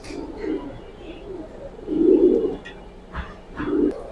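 Domestic pigeons, Giribaz and high-flyer birds kept for sale, give low, soft cooing calls in several close bursts over a quiet background.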